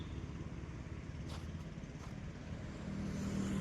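Road traffic rolls past at a steady low rumble, cars and other vehicles passing at a distance, faint and continuous with no voices.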